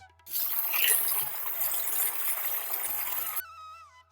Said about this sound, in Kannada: ಒಂದು ಬಕೆಟ್ ನೀರು ಹಾಕುವ